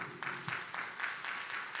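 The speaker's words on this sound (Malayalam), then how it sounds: "എല്ലാവരും ചേർന്ന് നല്ലൊരു കയ്യടി കൊടുത്തേ" An audience at a church talk claps together, a steady patter of hands with a few sharper beats, moderately close and without voices over it.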